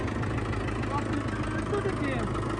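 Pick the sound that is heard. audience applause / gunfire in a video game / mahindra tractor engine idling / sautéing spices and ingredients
mahindra tractor engine idling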